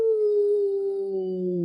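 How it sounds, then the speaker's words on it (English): A wolf pack howls in the distance, a long sustained wavering howl sliding slowly downward, with a second lower voice joining toward the end, clear and steady with no talk. "It is the call of the wolf pack."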